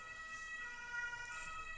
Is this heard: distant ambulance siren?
yes